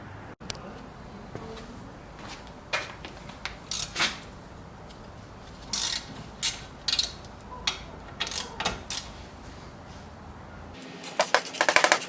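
Mechanical clicks and clinks from T55 Torx caliper bolts being removed on a Porsche GT3 RS during a brake pad change, with scattered sharp ratchet-like ticks and light metallic taps close by, then a brief burst of rattling at the end.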